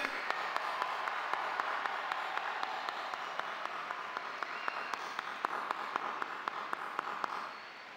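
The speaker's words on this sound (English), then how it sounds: "Let's give them a round of applause." A high school gym crowd at a Veterans Day assembly applauds the veterans, a broad steady wash of clapping heard from a distance with a few sharper claps standing out, fading at the end.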